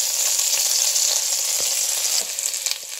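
Onions and garlic fry in melted butter with a little oil, a steady close bright sizzle that eases slightly toward the end, with a few soft utensil knocks and no talking.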